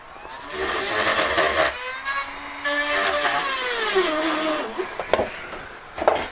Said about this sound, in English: Got to drill again.